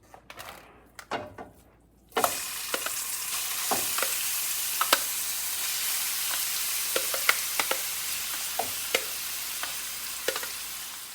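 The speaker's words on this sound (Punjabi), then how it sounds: "ਆਪਾਂ ਫਰਾਈ ਪੈਨ ਦੇ ਵਿੱਚ ਇੱਕ ਚਮਚਾ ਦੇਸੀ ਘਿਓ ਦਾ ਪਾਇਆ ਆ ਹੁਣ ਆਪਾਂ ਇਹਦੇ ਵਿੱਚ ਜਿਹੜੀ ਆਪਣੀ ਇਹ ਗਾਜਰਾਂ ਹੈਗੀਆਂ ਇਹ ਪਾ ਦੇਣੀਆਂ ਹੈਗੀਆਂ ਆ" Grated carrots hit hot desi ghee in a frying pan and sizzle steadily, with a loud continuous hiss after the first couple of seconds and sharp clinks and scrapes of a spoon stirring throughout.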